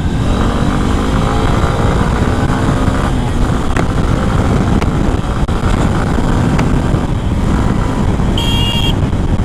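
A Honda SP 160 motorcycle (2024 model) pulls hard on the road, its engine note droning loud and steady under heavy wind rush, with a brief higher tone near the end.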